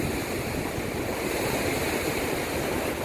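Evening surf at Nam Rin beach in Rayong makes a constant, dense hiss and wash of breaking waves, loud and unbroken throughout, with no voices over it.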